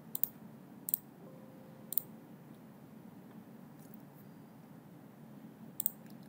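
Computer mouse clicks while working in PLC programming software on a PC, a few sharp, quiet double clicks spaced apart over a steady low room hum.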